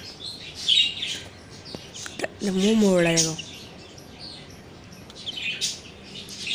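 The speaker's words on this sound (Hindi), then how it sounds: "देखो तोते कैसे खेल रहे हैं" Parrots chirp in short, high bursts scattered across the clip alongside someone talking, with a longer warbling call in the middle.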